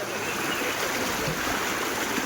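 Steady, loud flood water rushes continuously through Vaghnagar village, a dense broadband roar with no pauses.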